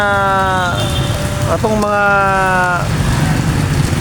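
Sudden heavy rain pours down in Cagayan De Oro City, a loud, steady hiss of rainfall with no letup, overlaid by a few sustained tonal horn-like notes.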